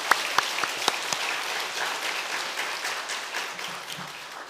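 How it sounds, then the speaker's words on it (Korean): A church congregation at a revival service breaks into loud, sustained applause, starting with a few distinct sharp claps that quickly merge into a steady crowd wash. "우리 하나님께 영광의 박수 한번 돌려드리고 말씀을 전하겠습니다"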